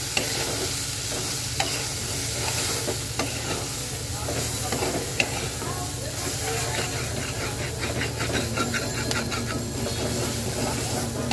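Spices such as coriander and turmeric powder being stirred into taro and tengra fish in a hot pan, a steady close scraping and stirring under a continuous sizzle of frying oil.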